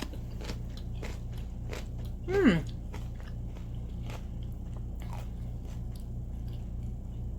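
Someone bites into candied jalapeños (cowboy candy), making a single brief, soft crunch early on over a low, steady background hum.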